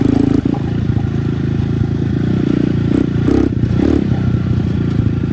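A Bashan BS250 quad bike with a ported engine and a PWK30 carburetor roars loudly and close in first gear, in a steady rasping drone with a few brief surges of revs.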